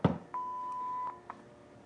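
Telephone time service call: a steady electronic tone lasting under a second, followed by a couple of short beeps, quiet and thin as if heard through a phone line.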